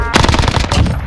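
A gunshot in Call of Duty: Warzone comes as a short, loud, close burst of rapid automatic fire, about a second of tightly packed reports.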